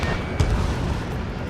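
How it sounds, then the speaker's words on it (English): An anti-air gun fires in a video game, a heavy booming shot with a rumbling low-end thump over steady background noise, close and fairly loud. "Fire anti-air gun!"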